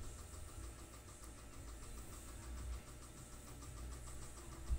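A multicab vehicle's small engine drones steadily during a ride, a continuous low rumble with a faint rhythmic ticking and road noise throughout.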